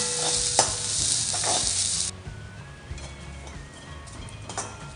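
Coconut roasting in a pan: a bright, loud sizzle for about two seconds, then quieter crackling with occasional clinks and scrapes of stirring.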